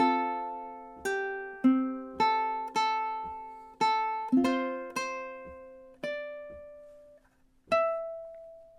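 Ukulele playing measures 15 and 16 of a song, a steady run of about a dozen close, clean strums and plucked notes, each ringing and fading before the next, heard alone.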